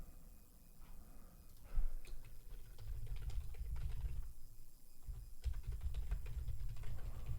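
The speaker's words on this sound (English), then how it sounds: "if you hear typing, that's just me making alerts in the private chat room community" Close, quiet clicking of computer keyboard keys in bursts of rapid typing, with short pauses, over a low background hum.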